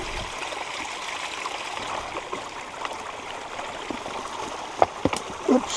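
Water flows and trickles around a well's intake pipe outdoors, a continuous mid-level rushing stream with a few sharp knocks and splashes near the end and no speech.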